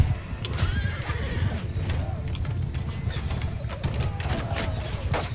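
A horse whinnies in the Mount and Blade II: Bannerlord battle game, over clopping hooves, clanking combat and a busy, noisy battlefield.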